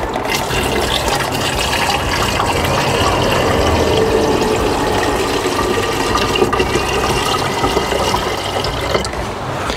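Washer fluid pours steadily into the windshield washer reservoir of a Nissan Titan, a continuous close liquid fill with a gurgling, splashing texture and no talking throughout.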